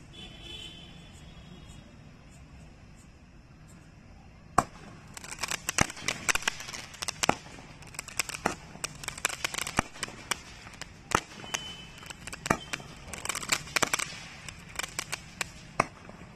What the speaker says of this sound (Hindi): सबसे पहले हम इस क्रैकलिंग वाले स्काई शॉट को चला के देखते हैं